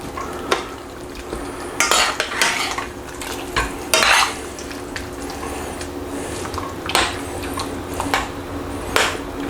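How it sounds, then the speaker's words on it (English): Chicken green curry being stirred in a pot, with a spoon scraping and clinking against the metal in a series of sharp, uneven strokes over a soft background simmer. "I'll just give it a stir in, let it cook for a minute with the lid on"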